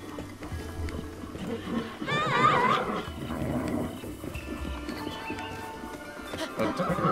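A horse whinnies in Zelda Breath of the Wild, a brief rising neigh in the middle over a busy game soundscape of ambient music and effects, with faint hoofbeats blending into the background.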